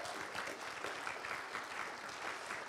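A church congregation applauds teenage volunteers taking the offering, steady mid-distance clapping that holds at an even level throughout.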